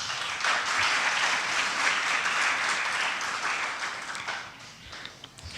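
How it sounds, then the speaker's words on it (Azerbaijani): An audience at an Azerbaijani garmon day event in Sheki applauds Sübhan müəllim, sustained crowd clapping that swells and then thins out toward the end, with no talk over it. "Sübhan müəllimi bir daha alqışlayaq"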